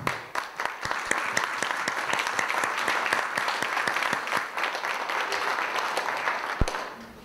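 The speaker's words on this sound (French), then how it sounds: "Ça mérite vraiment une belle main d'applaudissement." An audience at a presentation in Centre-du-Québec gives a sustained, even round of clapping that stays steady for several seconds, with a few sharper claps standing out before it tapers off.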